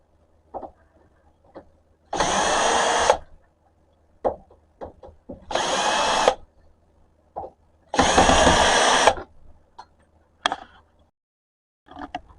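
Three bursts of a power tool backing screws out of a workshop panel, each about a second long with a steady whir, separated by quiet gaps filled with small clicks and handling knocks.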